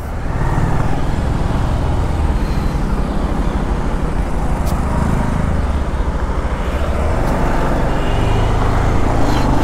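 Steady, dense roar of road traffic with cars queued in line, a continuous loud rumble with engine drone and no clear breaks.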